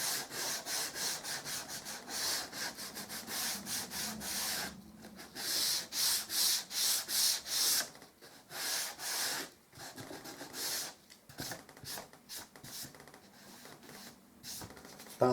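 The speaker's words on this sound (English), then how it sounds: "by using a piece of worn 180 grade sandpaper, something that's been used," Worn 180 grit sandpaper lightly rubbed over the freshly cut end of an MDF board, making close, rhythmic scratchy strokes in quick repeated bursts with brief pauses and no talking.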